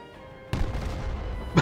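A loud explosion in the Battlefield 2042 video game during attack helicopter combat, bursting in suddenly after a quiet lead-in and rumbling on, with a second sharp blast at the end.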